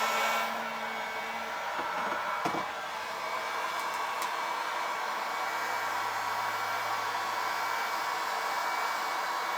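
A heat gun warming acrylic sheet for bending blows with a steady, even hot-air roar throughout, while someone speaks briefly over it.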